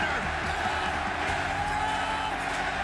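A wrestling arena crowd at the Chase Center cheers and roars continuously, a dense, loud wall of voices with whoops rising through it from start to finish.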